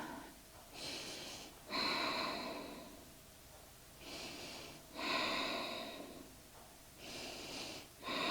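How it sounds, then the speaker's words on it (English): Slow, deep inhales and exhales through the nose recur in an even rhythm during a Hatha yoga twisting pose, close and breathy with a slight wheezy rasp, three full breath cycles. "Take deep breaths."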